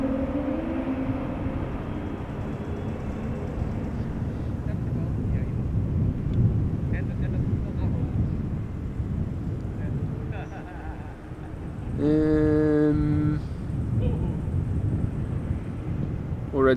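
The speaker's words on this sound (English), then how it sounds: "KLM flight 1230 returning from Gothenburg" KLM airliner arriving at Amsterdam Schiphol, returning from Gothenburg, a low rumbling roar heard close to the runway threshold with wind buffeting the microphone and a person talking, plus a brief tonal horn-like burst partway through.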